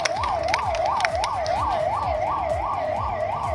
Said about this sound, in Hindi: एक बार ये एम्बुलेंस को रास्ता दे दीजिए सब लोग।